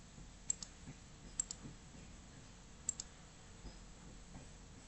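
Sparse computer mouse clicks at a desk, three or four sharp ticks with short gaps, some in quick pairs, faint over a quiet room hum with no talk.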